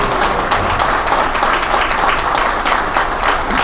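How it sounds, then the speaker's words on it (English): Steady, loud applause from an audience honouring Jay Gibson at a public event with the governor, with dense, even clapping sustained throughout and no pauses. "I think we should give Jay Gibson a round of applause"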